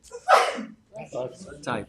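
A single sharp sneeze bursts out at a town zoning board hearing, followed by a short pause and then people speaking nearby.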